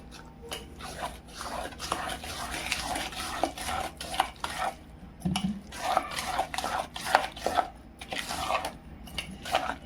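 A spoon mixes finely ground sugar in a bowl while a sweet is prepared for a festive vegetarian thali, producing steady, close scraping and clinking against the bowl in quick repeated strokes, with no voices.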